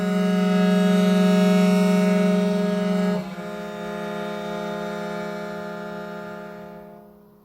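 A bowed string instrument holds one long note in a messa di voce exercise. It shifts in tone partway through, then slowly tapers away into silence, played alone with no talking.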